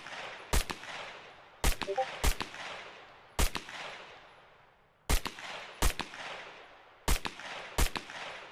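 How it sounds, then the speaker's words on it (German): SCAR rifle firing in the video game SCUM, loud sharp shots in short bursts of one to three, each followed by a ringing decaying tail, with brief pauses between bursts. "hier gibt es nur den Sound hauptsächlich von der Waffe"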